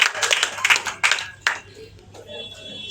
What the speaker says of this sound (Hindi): जोरदार तालियों से स्वागत किया जाए।